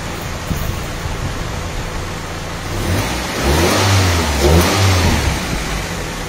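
A Mitsubishi Cedia car engine on a road test hums steadily, then revs up in two rising surges before settling, loud and close.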